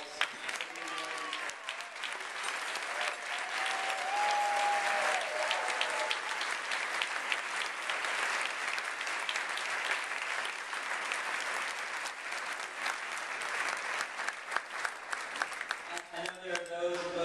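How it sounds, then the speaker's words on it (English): A sustained round of applause from an audience of Arlington Democrats for the standing candidates, dense steady clapping that lasts over fifteen seconds, with a few voices before it and after it fades. "So if all of the candidates could just stand and get a round of applause."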